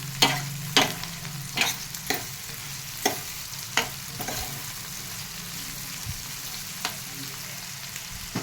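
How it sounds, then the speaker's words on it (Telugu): Tomato curry being stirred in a pan, a spoon scraping and clacking against the metal in irregular knocks over a low, steady sizzle, with no talking. "ఒకసారి కూర కలిపేసుకుందాం."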